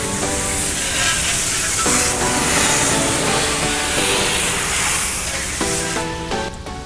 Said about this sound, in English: I'm gonna get started by rinsing down all this contamination.